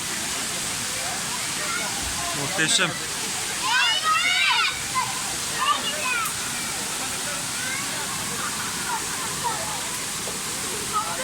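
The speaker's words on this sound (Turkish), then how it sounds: "Şelale çok güzel." Steady roaring rush of Sabun Çayı Waterfall in Düziçi, Osmaniye, fills the whole recording, broadband and constant, with a brief spoken exclamation heard over it.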